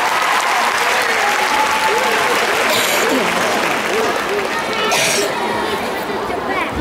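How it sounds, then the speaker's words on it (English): Loud, sustained audience applause fills a fan meeting in Singapore as fans come up on stage, a dense continuous wash of clapping with crowd chatter and a few shouts mixed in. "huge round of applause for our fans up on stage"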